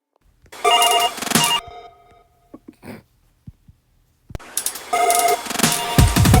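A telephone ring sample in a music track plays a loud electronic ringing burst, then falls to a few faint clicks, then the ringing returns strongly toward the end.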